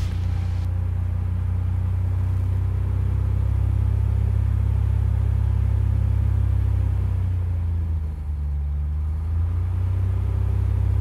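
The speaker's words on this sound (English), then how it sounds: "Then we'll run this up to like 2000 RPM" Small aircraft piston engine held at a steady high run-up of about 2000 RPM, leaned out to burn carbon off a fouled spark plug; loud, continuous droning rumble close by, with a brief dip in pitch near the end.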